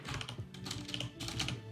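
Rapid close keystrokes on a computer keyboard, bursts of soft clicking clatter in an uneven rhythm, quiet and alone.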